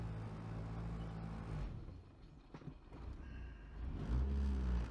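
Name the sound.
Honda Civic K24 turbo engine idling roughly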